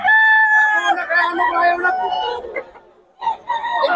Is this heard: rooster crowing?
yes